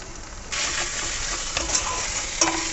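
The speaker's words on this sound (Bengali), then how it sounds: "মশলাটাকে ভালো করে ভেজে নেব তেল ছাড়া পর্যন্ত।" Spice paste of ground chilli, turmeric and ginger-garlic paste with chopped tomatoes and salt frying in oil for a mushroom masala, a steady close sizzle with occasional stirring clinks throughout.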